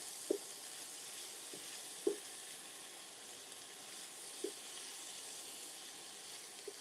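Potatoes in a skillet give a faint, steady sizzle while being stirred, with a few soft clicks and knocks from the stirring spread across the quiet frying.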